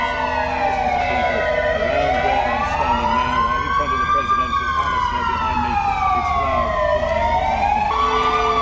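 Sirens wail in Poland at the start of national mourning in April 2010. The loud, continuous tone rises and falls slowly over a steady background rumble.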